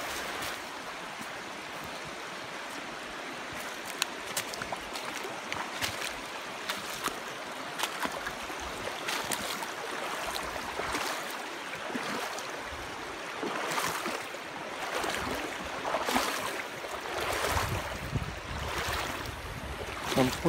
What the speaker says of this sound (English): So now we gotta wade the creek.